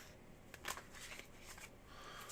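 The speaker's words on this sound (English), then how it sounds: "Here are your 10 official shuffles." Tarot cards shuffled by hand in quick riffling bursts, a soft papery flutter repeating close by with no talking.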